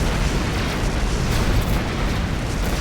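Missiles explode in a space combat video game as a dense, continuous rumbling roar of blasts, loud and unbroken with no distinct separate impacts, filling the whole span without any voices.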